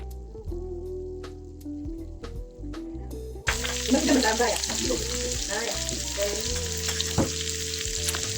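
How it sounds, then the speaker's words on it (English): Steak frying in a pan with garlic, rosemary and butter: a quiet stretch with soft kitchen clinks, then a sudden loud sputtering sizzle with crackling pops that continues steadily to the end. "Then I added back my steak and I cooked it for another 8 minutes."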